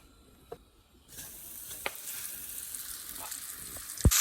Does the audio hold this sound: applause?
no